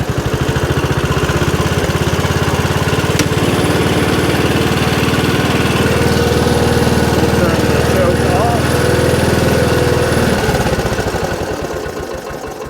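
A Cushman utility vehicle's small engine cranks and catches, then runs with a loud, rapid, rough chugging close by for about ten seconds before winding down.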